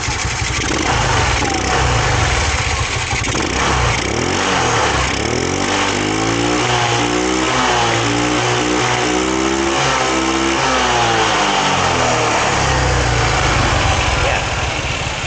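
A Rusi motorcycle engine, just back from carburetor repair, idles steadily and then revs up and down in several rising and falling sweeps, loud and close, with a steady mechanical rumble running throughout.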